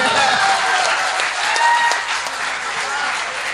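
Audience at an Agra mushaira and kavi sammelan applauding a poetry recital, a dense burst of many hands clapping that swells and then eases slightly, with a voice speaking over it.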